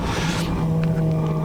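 A formula race car driving slowly on a wet track, its engine a steady droning hum with a sustained tone, close and continuous throughout with no talk.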